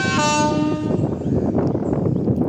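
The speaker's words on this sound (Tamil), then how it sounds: "ஸோ நம்ம ட்ரெயின் காரைக்குடி ஜங்ஷன்லேருந்து கிளம்ப போகுது." The Sengottai–Mayiladuthurai Express at platform 3 of Karaikudi Junction sounds a brief horn and then rumbles steadily as it starts to pull out, the rail noise loud and continuous with no talk.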